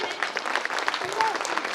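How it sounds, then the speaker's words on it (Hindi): Audience applause welcoming a student prize winner at a school annual day function, a steady burst of clapping over a loud hall, with a voice talking over it. "स्वागत कीजिए आप लोग तालियों से"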